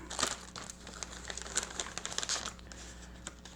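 Packaging crinkles and rustles as parts for a Creality Ender 5 Plus 3D printer are pulled from a box, with irregular close crackles and soft plastic-bag handling, no talking.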